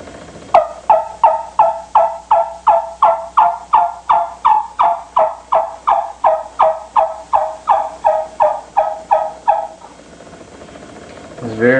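Wooden turkey call worked by hand to imitate a wild turkey's yelp: a long, even series of about twenty sharp, raspy yelps in steady rhythm, loud and close, ending in a pause.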